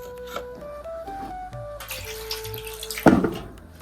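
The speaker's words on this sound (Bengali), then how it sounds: "এদিকে চালটা ধুয়ে দিচ্ছি" Rice being rinsed in water in a home kitchen: soft splashing and sloshing, with a sharper burst of water near the end, set against a faint tonal background.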